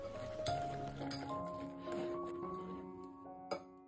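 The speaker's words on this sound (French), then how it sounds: "Mix thoroughly all the ingredients." A whisk knocks against a bowl while chocolate doughnut batter of flour and other ingredients is mixed, giving light, irregular clinks and soft stirring sounds at low volume.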